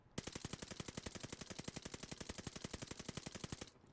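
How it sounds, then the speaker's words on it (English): A submachine gun, an STG44 in a video game, fires one long sustained burst at a wall, dozens of rapid, evenly spaced loud shots that stop abruptly near the end. "Now let's just shoot at the wall and see where the recoil goes."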